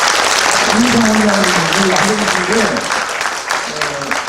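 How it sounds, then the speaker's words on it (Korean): Audience at a poetry and literature lecture breaking into loud, sustained applause that carries on under a speaker's talk, fading slightly toward the end. "박수 한번 하시죠."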